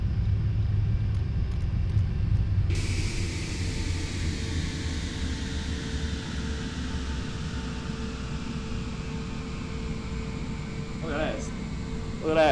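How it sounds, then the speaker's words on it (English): Engines of a PMDG Boeing 747-400 freighter spool down in a flight simulator, a broad whine and rumble that drops abruptly early on, then a long fading hum with faint clicks near the end. "let's kill the engine"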